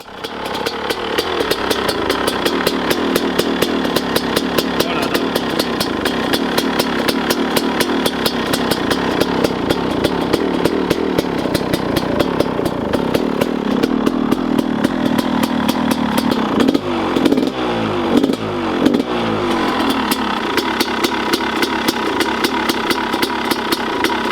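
A moped engine fitted with new red and yellow springs runs steadily outdoors, a loud, buzzing two-stroke drone that revs and wavers a little midway, with no voices over it.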